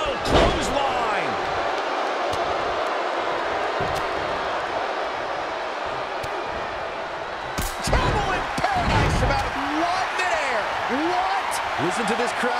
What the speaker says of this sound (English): Oh, clothesline!